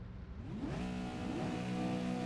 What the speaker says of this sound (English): So revs rise, these guys ready for 25 laps around Mosport